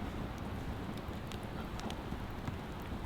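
Flowing water at a remote campsite far from roads and houses, a steady broadband rush with no let-up, scattered small splashes over it, and nothing else present.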